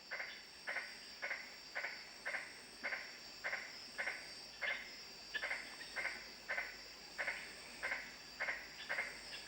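Magnificent tree frogs call around a night camp among sandstone rocks in the Kimberley, Australia, in a steady train of evenly spaced pulses over a constant insect hum.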